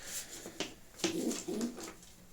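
Sport pigeons in a loft give low cooing calls, with a young squab's faint squeak among them, in a few soft spaced phrases, fairly quiet and without talk.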